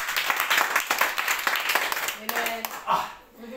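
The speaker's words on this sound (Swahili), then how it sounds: "makofi mazuri" At a church service, a congregation claps in a burst of fast, dense applause that fades out toward the end, with a voice speaking over it.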